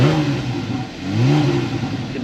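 A Porsche 911 Carrera 4S with its exhaust opened up gets a gentle rev, the engine note rising and falling twice in smooth swells, close and clear with no talk.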